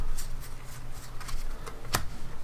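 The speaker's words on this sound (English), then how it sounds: "we gotta shuffle again" A deck of playing cards being shuffled during a card game, a quiet papery riffle with brief bursts and one sharper snap near the end.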